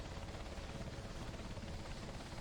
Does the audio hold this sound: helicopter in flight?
yes